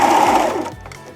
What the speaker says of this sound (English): drop my presser foot, and sew without trimming anything off the extra